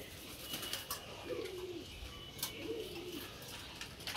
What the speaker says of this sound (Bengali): খাকি নটটা ডাকতেছে